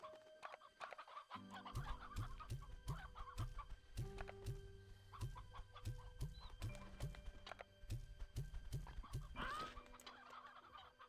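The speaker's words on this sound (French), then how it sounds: "Je vais quand même vous laisser un coq." Rooster in the video game Slime Rancher 2 clucking in a series of short, regular low clucks over a steady ambient game backdrop, with no voices heard.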